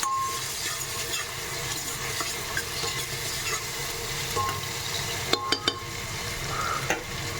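Chopped onions sizzle steadily in hot oil in a pressure cooker while a spoon stirs them, with a few sharp metallic clinks of the utensil against the pot near the end; close, continuous, no voices.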